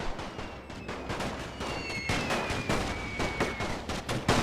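Artillery fires repeatedly in a World War I strategy video game, rapid overlapping booms and cracks in dense irregular volleys, loud and continuous with a faint whistling tone.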